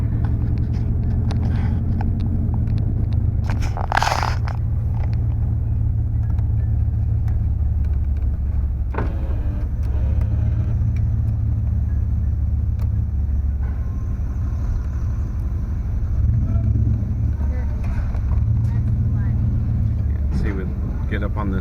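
Car pulling into a recycling yard and driving onto a scale: a steady low engine rumble and road noise fill the whole stretch, with occasional faint knocks and creaks over the hum.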